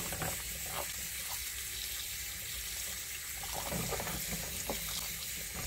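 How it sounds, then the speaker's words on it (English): Water poured from a tap into a pot of boiled jackfruit seeds, a steady broadband gush running the whole time at close range with a few small splashes and clunks. "I'm going to cool these down by adding some water"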